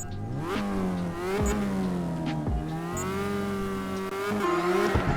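Car in the drifting game CarX Drift Racing Online power-slides into a corner, its engine rising and falling in pitch with sharp revs and dips while tires squeal underneath, loud and continuous.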